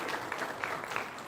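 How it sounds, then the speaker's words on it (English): A graduation ceremony audience gives a short burst of applause, moderately quiet and somewhat distant, with uneven claps rising and fading over little more than a second. "Give an applause for that."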